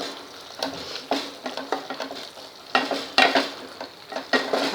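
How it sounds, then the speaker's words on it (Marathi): Spice mixture of turmeric and asafoetida sautéing in hot oil, a steady close sizzle with repeated scraping stirs of a spoon through the pan, no voices. "आपण हे मिश्रण अर्धा मिनिट परतून घेऊया"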